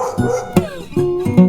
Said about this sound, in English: Their barks are more than just noise, they are a symphony of emotions